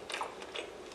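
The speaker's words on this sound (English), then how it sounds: "It sounds like she's not even chewing all the way through." A woman chews and bites food with a few soft, crunchy mouth sounds in quick succession, close and fairly quiet, with no talking.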